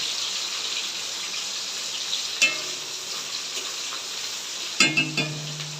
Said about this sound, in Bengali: পেঁয়াজ দিয়ে দেবো। পেঁয়াজটা একটু লাল করে নেব।